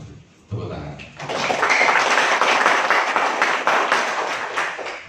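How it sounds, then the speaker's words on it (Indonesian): A short quiet stretch gives way to a burst of sustained audience clapping at a formal community youth organization inauguration in Pacet district, Indonesia, loud and broadband and holding steady to the end. "Tepuk tangan."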